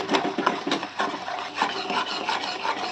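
Caramel is stirred in a pan over low to medium gas, giving rhythmic scraping and rasping strokes against the pan, close and moderately loud.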